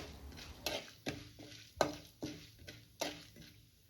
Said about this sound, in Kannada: ಕಡಲೆಬೇಳೆ, ಉದ್ದಿನಬೇಳೆ ಸ್ವಲ್ಪ ಕಲರ್ ಚೇಂಜ್ ಆಗೋವರೆಗೂ ಹುರ್ಕೋಬೇಕು